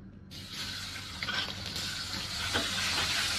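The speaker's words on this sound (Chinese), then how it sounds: "然后呢把肉片下锅" Meat slices drop into hot fish oil left from frying fish in a wok. After a brief quiet start, a dense, close sizzle swells and holds loud and steady.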